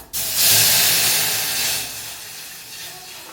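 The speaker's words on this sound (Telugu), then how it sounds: "ఇప్పుడు దీంట్లో పాలు వేసేస్తున్నాను" Milk hits a hot pan of fried ingredients and erupts into a loud, steady sizzling hiss that rises quickly, then slowly softens, close and alone.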